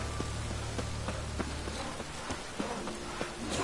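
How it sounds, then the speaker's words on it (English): Steady heavy rain pours down in The Witcher 3: Wild Hunt, a constant dense hiss with scattered drip and patter accents over a low background hum, no voices. "It's raining buckets."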